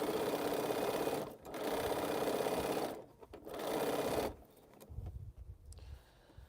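A home sewing machine stitches a quilt seam in bursts of steady whirring, pausing briefly twice before stopping, then faint handling noises follow at close range.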